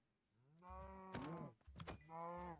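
Cows in the Minecraft video game moo three times in quick succession, close and clear, with no talking.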